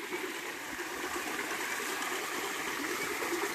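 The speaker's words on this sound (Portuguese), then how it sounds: "ela está succionando daqui e está bombeando lá para a caixa d'água" A water wheel pump draws water and pushes it up toward a storage tank, giving a steady, broad rush of flowing, splashing water that holds even and fairly loud throughout with no talk.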